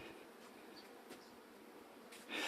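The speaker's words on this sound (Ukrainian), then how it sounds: "на ньому постійно рій бджіл" A swarm of bees buzzes around a flowering kiwi bush, a faint, continuous drone with a louder, closer buzz swelling near the end.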